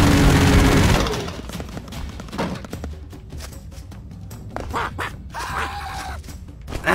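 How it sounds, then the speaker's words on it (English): Machine gun fire in the video game The Expendables, a loud rapid burst in the first second, then scattered softer shots, thuds and game effects. "This guy gets pushed back by a machine gun."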